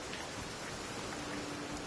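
Steady rain hisses across a Genshin Impact game world, a dense even patter of drops with no voices, holding at a constant moderate level throughout.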